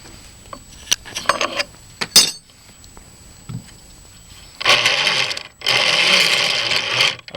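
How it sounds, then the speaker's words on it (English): A restored Goodell Bonanza apple peeler/corer works through an apple, with scattered metallic clicks and clanks first, then two long stretches of steady, loud whirring, scraping peeling noise. "So let's peel an apple or two and see this machine in action."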